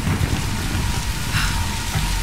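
A heavy rainstorm with thunder in a Tomb Raider game, heard as a loud, steady wash of pouring rain with a deep rumble underneath, continuous and close, with no voices.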